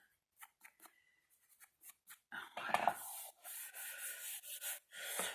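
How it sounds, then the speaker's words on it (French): Eraser rubbing out pencil lines on paper during a drawing session: soft scattered scrubbing strokes at first, then denser, louder back-and-forth rubbing bursts, close and faint overall. "je vais gommer mes traits là qui étaient à"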